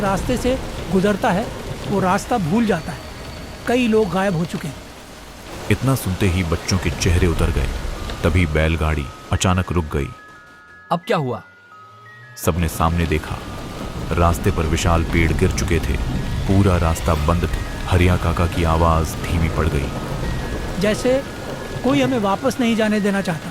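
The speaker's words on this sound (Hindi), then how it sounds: "बारिश और तेज हो गई।" Heavy rain pours steadily through a Hindi horror story told over a forest night on a bullock-cart road, the dense hiss running continuously beneath a narrator's voice and briefly dropping out midway.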